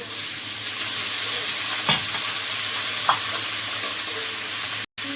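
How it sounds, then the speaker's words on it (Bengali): Chopped onion and garlic frying lightly in a pan before prawns go in, giving a steady, close sizzle with a couple of brief stirring scrapes and a short dropout near the end. "একটু পেঁয়াজ কুচি আর রসুন কুচি একসঙ্গে এটা একটু হালকা ভেজে দিয়ে এর মধ্যে চিংড়িতে দেবো"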